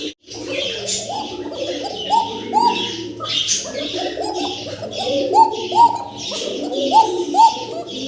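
Several pigeons coo close by in repeated throaty, rolling calls that overlap in a steady rhythm, with faint chirps in the background.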